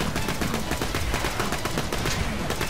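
Rapid automatic gunfire from a weapon in the video game Borderlands 2 rattles on continuously in a loud, dense stream of shots, with no pauses or speech.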